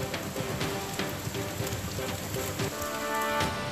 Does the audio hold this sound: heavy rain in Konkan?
yes